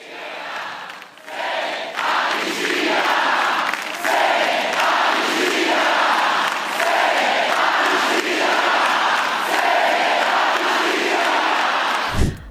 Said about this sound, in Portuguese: O grito de uma multidão se destacou durante a posse de Lula lá em Brasília